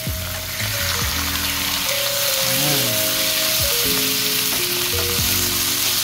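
Boneless chicken sautés in a hot pan with a loud, continuous sizzle and crackle close up, while a person talks over the cooking.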